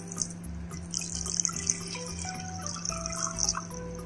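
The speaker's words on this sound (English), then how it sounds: "The first thing is to light the flame and add in 2 cups of water." Water runs into a cooking pot on the stove as the first step of Kashmiri noon chai, a steady close splash and trickle with small drips and no talking.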